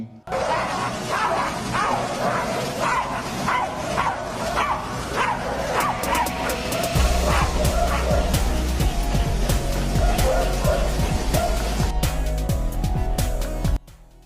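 A dog barks and yips repeatedly at an exercise machine, in rapid close, loud bursts with whimpers, over music and a narrating voice, with a heavy low beat joining in the second half.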